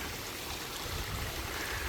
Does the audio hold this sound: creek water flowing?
yes